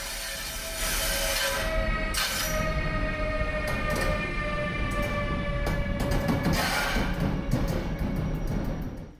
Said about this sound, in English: And here it comes, the brand new international train